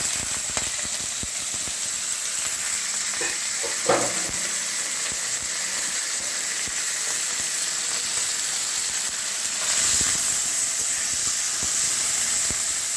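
About 200 g of chicken mince sizzles and hisses steadily in a hot pan, with a louder stir and scrape near four seconds and a brighter burst of frying around ten seconds; nobody speaks.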